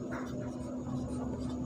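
Chalk or marker scratches across a classroom board during a Class 12 maths lesson, a brief continuous scraping close by over steady room hum.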